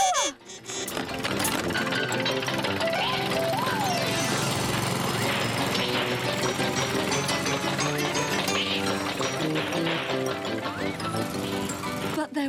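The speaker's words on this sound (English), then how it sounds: "Runaway mower! Runaway mower! Runaway mower!" Runaway lawn mower in a Brum animation, a busy rattling mechanical clatter running loud and continuous throughout, mixed with music and excited voices calling out.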